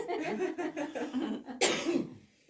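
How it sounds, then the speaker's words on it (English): A burst of coughing follows a stretch of muffled, indistinct vocal sounds, then the noise fades out near the end. "Yeah, I've been coughing all day, so I apologize."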